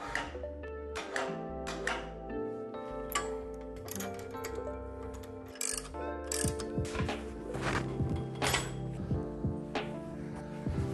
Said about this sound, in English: raise with the winch, bump it up until it's in position